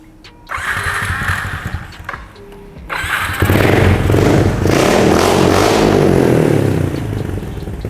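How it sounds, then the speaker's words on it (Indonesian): A 135cc Jupiter MX motorcycle starts with a short clattering burst, then its exhaust revs loudly and roars close by for several seconds before easing slightly. "Suaranya knalpot garang."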